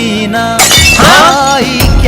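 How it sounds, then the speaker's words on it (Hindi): Glass shatters loudly and close by in a school classroom, a bright crash followed by ringing fragments scattering. It stands almost alone, with a faint tonal music bed running underneath. "ये कांच अपने आप कैसे फूट गया?"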